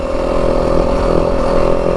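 A 2025 Yamaha WR 250F dirt bike engine runs loud and close, holding a steady, buzzing drone that rises slightly in pitch without pause.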